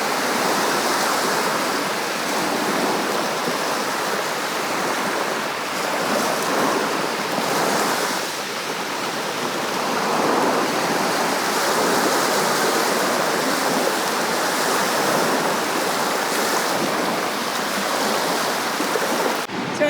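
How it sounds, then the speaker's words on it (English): Ocean waves break and wash continuously on a Martin County beach in Stuart, Florida, a loud, dense roar of surf with some wind, steady throughout with no voices. "I'm just going to take a little walk along the beach and enjoy it."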